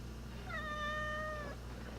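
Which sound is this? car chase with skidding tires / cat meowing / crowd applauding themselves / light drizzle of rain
cat meowing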